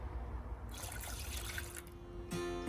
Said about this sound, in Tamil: இப்போ இதோட இன்னொரு கப் தண்ணி நான் சேர்த்துக்கிறேன்.